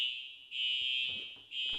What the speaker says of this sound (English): So that was a fire alarm in my dorm.